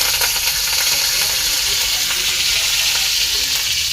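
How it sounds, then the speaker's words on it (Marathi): Masala with curry leaves fries in a pan, giving a steady, close, dense sizzle and hiss that holds evenly throughout without talk. "आणि हा मसाला चांगला आपण फ्राय करूया"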